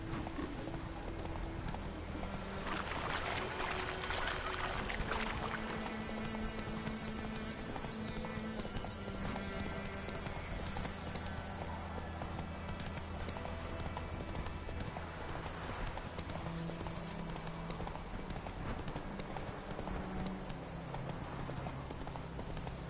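Rapid clip-clop of horse hooves in The Witcher 3 runs steadily throughout, with music and game sounds layered underneath and a brief whinny.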